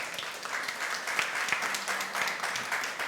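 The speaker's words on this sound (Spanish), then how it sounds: "Palmas para el Señor" A church congregation applauds together during a sermon, a steady wash of clapping from many hands at moderate loudness, with a faint tone held underneath.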